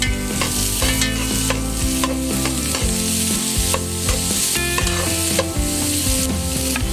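Garlic and ginger sautéing in a pan give a loud, continuous sizzle punctuated by repeated scraping stir strokes, with faint tonal background music underneath.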